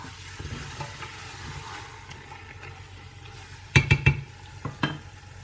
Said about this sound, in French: je rajoute la pulpe de tomate